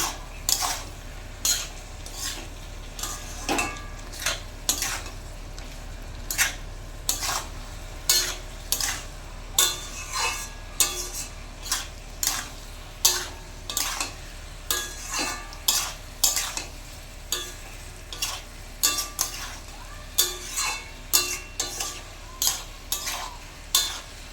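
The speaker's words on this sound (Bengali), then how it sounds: "এবার ভালোভাবে নেড়ে ছেড়ে নেবো আমি।" A katla fish head being stirred with turmeric in a pan, a low sizzle under a brisk run of rhythmic spatula scrapes and knocks on the metal, close and steady with no voices.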